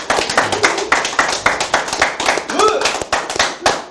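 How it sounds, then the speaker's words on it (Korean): A talk-show audience claps in rhythmic unison, loud, evenly spaced bursts about twice a second for four seconds, with a voice briefly heard partway through. "맞다고 생각하시면 다시 한번 박수 한번."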